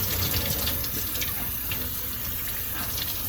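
Freshly tie-dyed fabric is rinsed under a running tap, a steady, close gush of water splashing into a sink.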